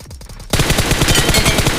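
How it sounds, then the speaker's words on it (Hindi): Gunfire in the mobile battle-royale game BGMI (PUBG Mobile): after a quiet half-second, a rapid, loud burst of automatic shots fires in steady succession to the end. "यहाँ पर गोली चलने की आवाज आती है"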